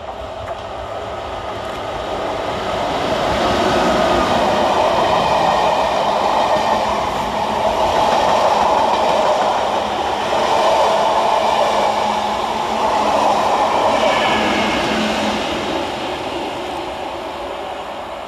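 Class 90 electric locomotive 90001 running through a station platform area with class 86 locomotive 86101, a steady loud rumble and rail roar that swells and holds, with faint wheel clatter.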